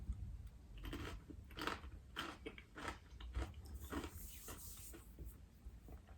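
Someone chews a mouthful of homemade salsa made with canned tomatoes, producing soft, quiet bites and crunchy chewing in an irregular rhythm close to the mouth, with no speech.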